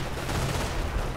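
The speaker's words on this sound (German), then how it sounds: "Ich höre die Artillerie schießen." Artillery and gunfire in the World War II strategy game Company of Heroes, a dense, continuous barrage of booms and rattling shots with a low rumble, steady and fairly loud throughout.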